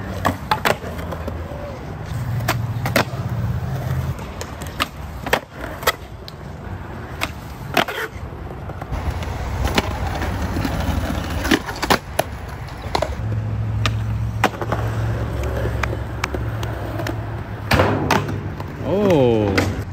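Skateboard wheels roll and clatter through a long stretch, with repeated sharp board slaps and thuds of tricks landing, including a bubble flip firecracker; voices talk and shout intermittently.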